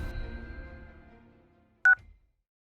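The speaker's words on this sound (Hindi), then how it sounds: "कॉल कर इंस्पेक्टर साहब को।" A single keypad tone sounds as a phone number is dialed, one short sharp beep after a fading low rumble, then quiet.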